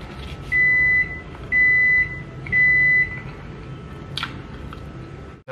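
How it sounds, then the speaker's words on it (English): Home microwave oven beeping three times in a steady evenly spaced sequence, clear and fairly close, followed by a faint click and quiet room noise. "That's my microwave beeping."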